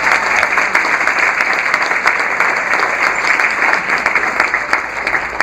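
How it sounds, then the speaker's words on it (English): Sustained applause from a room full of people at a multiple sclerosis fundraiser event, steady and loud throughout with dense clapping and no speech over it. "So please give everyone that has MS a round of applause."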